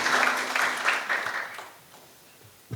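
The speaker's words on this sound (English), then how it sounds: "Can we give a round of applause to Violetta?" A conference audience applauds, a short burst of clapping that fades out within a couple of seconds and leaves near-silence at the end.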